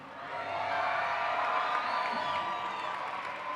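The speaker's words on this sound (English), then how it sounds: "Does the crowd sound excited for the finals?" A large crowd cheers and shouts steadily at the finals of the 2024 Michigan State FTC robotics championship, a dense, sustained roar of voices and whoops filling the hall at even loudness throughout.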